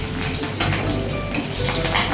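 Nigella seeds and green chillies sizzle loudly in hot oil for a fish-head and pumpkin curry, a dense, close crackle with bursts of spattering and light stirring clatter throughout.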